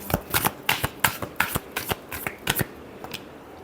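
Tarot cards are riffled and shuffled by hand in a quick series of crisp, close flicks and slaps. The roughly dozen bursts are irregular and fade toward the end, with no talking.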